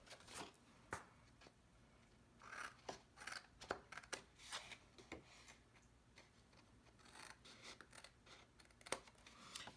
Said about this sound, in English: we want to cut all four sides at an angle like this, just right up to that fold line